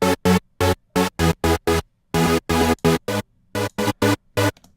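Thick EDM supersaw from Serum, oscillator B stacked with fifteen or sixteen unison voices, fired as a loud chopped rhythm of short chord stabs, some held slightly longer, with clean gaps of silence between them.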